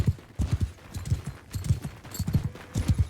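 Horse archers' mounts galloping in the video game Mount and Blade Bannerlord, close rapid clusters of hoofbeats in an uneven triple rhythm, loud and distinct over a quiet background.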